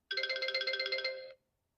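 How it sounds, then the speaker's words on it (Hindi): A mobile phone ringtone sounds once as a short, clear, fairly quiet trill of rapid pulsing electronic tones, lasting about a second before stopping, with no talk over it. "अरे मधु, ये तो डॉक्टर मैडम का फोन है।"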